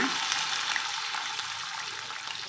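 Chicken skin sizzles in hot cooking oil, a steady bright hiss and crackle that stays fairly quiet and even throughout, with no talking.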